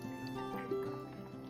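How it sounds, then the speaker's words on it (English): Thirty-two ounces of reduced-sodium beef broth pours into a soup pot for cabbage beef soup, making a quiet, continuous trickling fill. "I'm going to pour the beef broth, which is 32 ounces"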